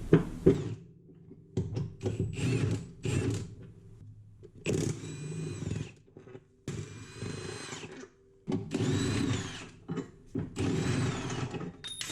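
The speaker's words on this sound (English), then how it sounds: "start backing out these bolts. These are all 19s" A power tool backs out 19 mm subframe bolts under a Honda CR-V RD1 during a K-swap, in short whirring bursts of varying length separated by pauses and occasional clunks, close up with no talk.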